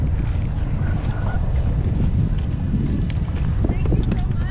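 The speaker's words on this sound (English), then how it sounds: "It got really windy, so let me back up." Strong wind blows across open water near the shore, a steady loud roar with gusty buffeting on the microphone throughout, and voices speak briefly beneath it.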